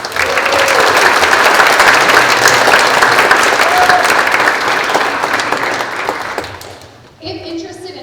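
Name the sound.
audience applause for student performers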